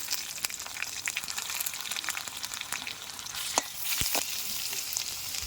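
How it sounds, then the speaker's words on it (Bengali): Chopped onions fry in hot oil with garlic paste stirred in, giving a steady close sizzle broken by scraping stirs and sharp clicks of a utensil against the pan. "এই পেঁয়াজ ভাজার মধ্যে দিয়ে দিচ্ছি আমি রসুন বাটা"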